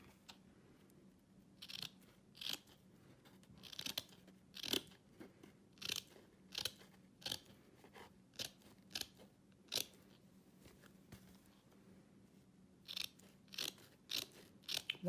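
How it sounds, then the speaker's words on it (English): A pair of scissors snips through burlap backing in a shadow box craft, giving sharp separate crunchy cuts in irregular bursts, close and alone. "I just use my pair of scissors and cut away."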